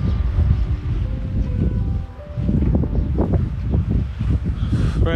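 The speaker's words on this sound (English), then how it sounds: "it's a bit windy, but really nice" Wind gusting at a seaside parking spot, a loud low buffeting rumble against the microphone that swells and eases in irregular gusts, with faint rustling and no talking.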